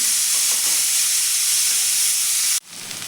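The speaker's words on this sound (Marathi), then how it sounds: "जिरे आपले हलकेसे फुलले की त्यामध्ये आपल्याला कांदा घालून घ्यायचा आहे।" Onion dropped into hot oil with cumin for a dhaba-style dal tadka gives a loud, steady hiss and sizzle close by, cutting off sharply near the end, with no talking.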